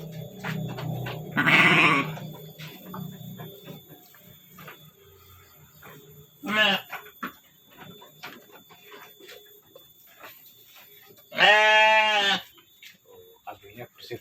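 Goats bleating in a goat pen, three separate loud close bleats spaced several seconds apart, with a person talking quietly between them over faint farmyard noise.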